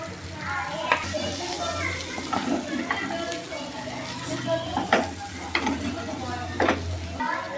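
Prawns frying in a pan as chili powder is stirred in, a low continuous sizzle with periodic scraping clacks of the spoon, while a voice talks and children can be heard in the background.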